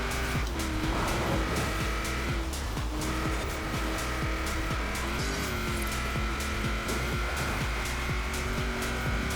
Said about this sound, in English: This car almost reminds me of driving like a rear-wheel drive car in this game.